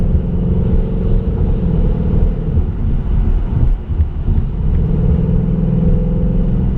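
A 2018 Ford Mustang GT with the 10-speed and performance package, base exhaust without the active option, roars steadily under acceleration, a loud, deep continuous rumble with a brief dip midway before it builds again.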